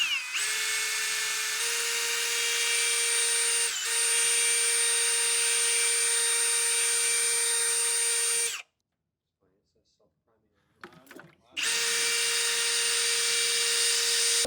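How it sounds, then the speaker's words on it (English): A hand drill spins a small water pump submerged in water, giving a loud, steady high-pitched whine that cuts out for about three seconds, with faint handling noise in the gap, then starts up again. "Stick the drill down in the water, the whole pump in the water pretty much."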